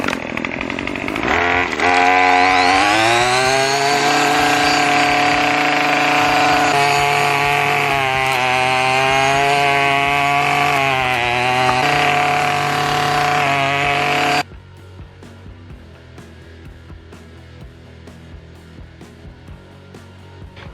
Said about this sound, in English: Let's see how the Tri-Clone does just doing some trimming around the house.